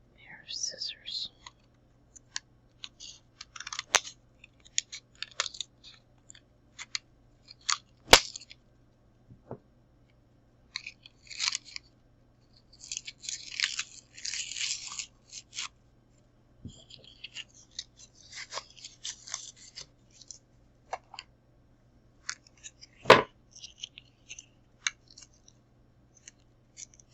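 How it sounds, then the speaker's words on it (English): Scissors snip and cut through plastic packaging in a quiet room, sharp close crisp cuts and crinkles coming in scattered bursts with pauses between, under soft whispering. "Let's open this with a pair of scissors."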